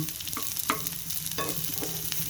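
Garlic stir-fried in a pan, a steady sizzle broken by several scraping stirs at an uneven pace, close and fairly loud with no talking.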